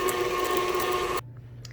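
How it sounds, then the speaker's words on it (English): Electric stand mixer running steadily while blending organic eggs into cookie dough, a close, even whir with a tonal hum that cuts off abruptly, leaving a low residual drone. "I now have my organic eggs in the mixer. I'm going to mix them in, blend them in"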